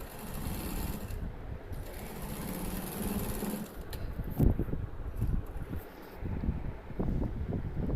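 A sewing machine stitches a folded strip on a frock's neckline up to the shoulder, a steady close whir that runs for several seconds and then breaks into short uneven bursts with small mechanical knocks.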